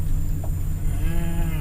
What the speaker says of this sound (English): Maybe some cows from the cow farm.